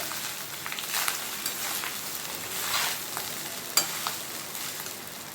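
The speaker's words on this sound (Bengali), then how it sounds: "এবারে আমি ভাতগুলো দিয়ে দিচ্ছি।" Cooked rice, loose and separate-grained, hits a hot pan and sizzles steadily while being stir-fried for Bengali-style fried rice, with scattered scrapes and a sharp utensil clack near the end; no talking.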